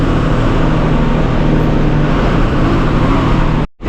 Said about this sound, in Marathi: चला गाडी निघाले पुढे